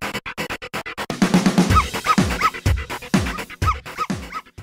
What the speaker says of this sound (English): you can hear a drum loop in the left speaker and an annoying dog in the right speaker